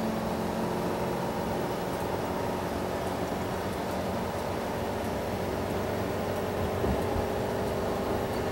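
A 2000 Four Winds Windsport 35D motorhome accelerates up to highway speed, filling the cabin with a steady, loud drone of engine and road noise that barely changes for the whole stretch.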